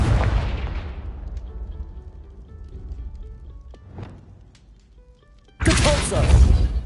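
A Confringo spell blast from Hogwarts Legacy goes off as a sudden loud, broadband burst near the end, following a quieter stretch with a rumbling start and a brief whoosh in the middle.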